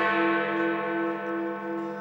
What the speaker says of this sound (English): 8 o'clock and Big Ben's final chimes.